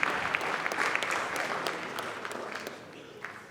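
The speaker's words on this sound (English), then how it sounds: "Please hold all applause till the end." An audience claps after a candidate finishes speaking at a youth state candidate debate, the applause fairly loud at first and then gradually thinning and fading.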